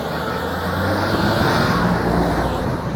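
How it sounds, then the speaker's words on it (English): A truck drives past on a road, making a loud, steady rumble of engine and tire noise that fills the whole stretch without letting up. "the truck going past"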